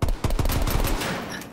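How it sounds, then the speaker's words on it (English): Rapid automatic gunfire in the Call of Duty Cold War video game, a dense burst of loud shots in quick succession throughout, close and unbroken. "I shot him so many times"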